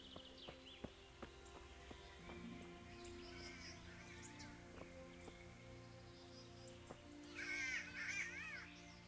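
Crows caw in the Kingdom Come: Deliverance game world, several harsh calls at moderate distance over a steady outdoor ambience with faint hoof clops, ending in a louder burst of chattering bird calls.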